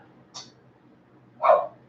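A dog barks twice in a garage workshop during a gas bike rebuild: a faint, high yip, then a louder, fuller bark about a second later, over a low steady hum.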